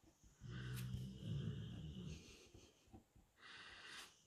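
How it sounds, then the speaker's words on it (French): A dog snoring: soft, raspy, wheezing breaths in a slow rhythm, very faint and close, with no one talking. "Si vous aimez les chiens qui ronflent."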